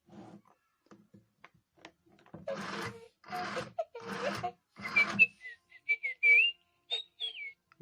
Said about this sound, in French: il siffle l'air musical de Star Wars